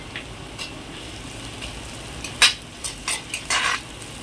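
Onions with a pinch of salt fry on a large stove, a soft steady sizzle that a few louder scrapes and clatters of stirring cut through near the end.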